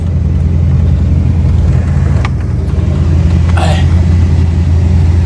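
Loud, steady idle rumble of the V8 engine in a Knight Rider replica car, a deep continuous drone close by with a faint voice briefly over it.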